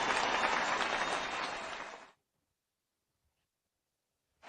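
An audience gives a speaker a warm welcome with about two seconds of loud, dense clapping that stops abruptly into silence, then a brief burst returns at the very end.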